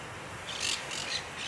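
Parrots call faintly in the distance, a few short, harsh squawks scattered over a soft background.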